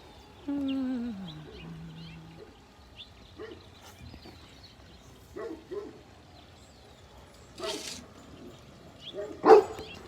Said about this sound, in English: Uh-oh, my dog is barking.